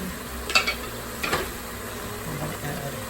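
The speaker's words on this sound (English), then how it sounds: "Just give it a good stir." Browned beef and vegetables for beef paprikash stirred in an Instant Pot: two or three quick spoon scrapes over a low, faint sizzle, close and without speech.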